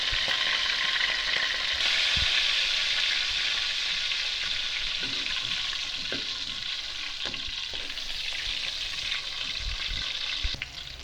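Continuous sizzling and crackling of native chicken frying in a pan, with occasional scraping and stirring knocks, close and steady throughout with no speech.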